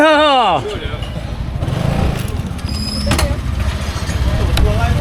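A close motorcycle engine in Chiang Mai, Thailand, idles and revs with a rough, sputtering drone after a short high whine at the start, with some voices around it.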